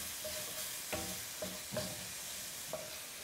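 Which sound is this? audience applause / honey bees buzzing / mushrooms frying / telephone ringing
mushrooms frying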